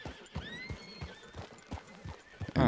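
Horses in Red Dead Redemption 2 clip-clop along with a rhythmic hoof pattern, and a whinny rises over the steps, fairly close with no talk.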